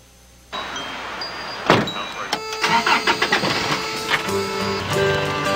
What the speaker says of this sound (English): Driving a truck.